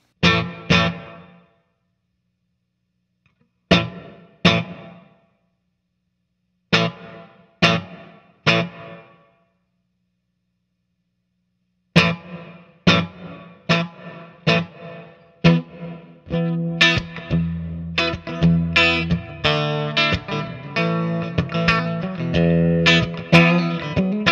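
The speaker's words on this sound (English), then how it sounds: "Let me show you the pre-delay on that real quick." Electric guitar through a Wampler Reflection reverb pedal with pre-delay: sparse single plucked hits with pauses, then a steady run of strummed chords with a washy tail.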